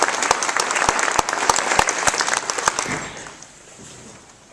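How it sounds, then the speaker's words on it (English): Debate audience in a community center hall breaks into full applause with sharp individual claps standing out, steady for about three seconds before fading away to near quiet. "Okay, you got the applause out of your system"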